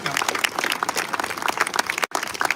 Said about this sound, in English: So can we give Rotary a nice round of applause?